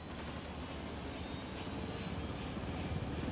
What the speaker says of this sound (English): we're gonna grab that chopper and get the hell out of here